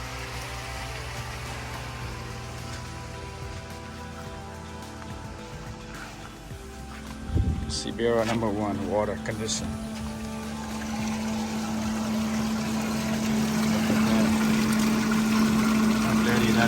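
A sprinkler pump in a three-barrel koi pond filter starts up after a clunk, settling into a steady motor hum with a rising tone, and water rushes beneath it. Someone talks briefly over it.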